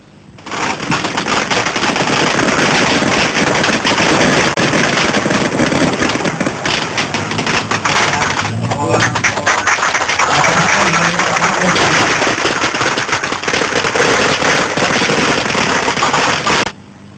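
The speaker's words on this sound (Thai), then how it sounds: "ดอกไม้ไฟ" Fireworks and firecrackers explode in a dense, continuous rapid crackle for about seventeen seconds, loud and unbroken, with no speech.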